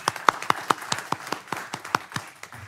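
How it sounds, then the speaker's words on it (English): Sparse, individual hand claps ring out at a city council meeting, roughly a dozen separate claps spread unevenly across a few seconds, fairly close and moderate in volume with no talk over them. "Give him a round of applause, everyone, for supporting him."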